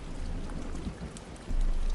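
Steady, dense rainfall patters across surfaces, with a low rumble of distant thunder swelling near the end; continuous and fairly loud, no voices.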